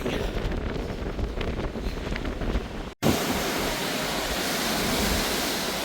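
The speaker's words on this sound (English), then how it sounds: "Still pretty windy." Strong wind sweeping across the deck of the Ruby Princess cruise ship at sea off the Alaskan coast, a loud, steady roar buffeting the microphone, with a brief cut midway before the gusting noise resumes even louder.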